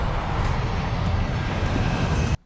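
Loud, steady roar of an airplane engine from a TV drama about an outbreak, a continuous broadband drone that holds for over two seconds and then cuts off abruptly.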